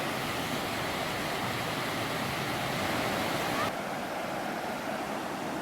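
Lower Gragg Prong Falls in Pisgah National Forest, North Carolina, pours in a constant, close, broadband roar of falling water that stays even and unbroken from start to finish.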